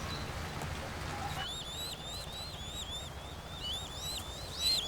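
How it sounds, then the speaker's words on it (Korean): A common cuckoo chick begs for food in a nest with a series of thin, high, repeated chirps that start after a quiet moment and continue rapidly, faint against a soft background hiss. "먹이를 보채는 뻐꾸기의 소리도 더욱 요란해진다"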